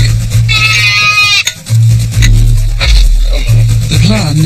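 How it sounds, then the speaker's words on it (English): Goats in a protective cage at a watering hole give loud, close, wavering bleats, several calls in turn over a low rumbling background. "The hope is that the lions will be drawn to the commotion of bleating goats"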